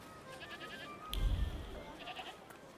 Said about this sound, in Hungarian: Meg a kecskék.